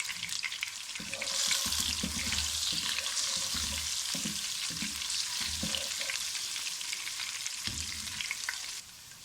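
Cumin seeds, ginger and garlic sizzle steadily in hot oil in a kadai, a loud continuous frying hiss with occasional stirring clatter, no voices.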